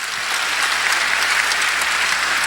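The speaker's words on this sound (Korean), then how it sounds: "박수치며 하나님께 영광을 돌립시다." A church congregation claps together in praise during a sermon: loud, dense, uniform applause filling the room, swelling slightly after the first moment and holding steady to the end.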